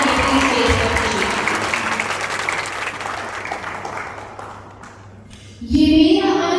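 Loud applause from the audience at a Pakistan Day mushaira poetry gathering in Sharjah, a dense sustained wash of clapping that fades slightly, then swells again near the end.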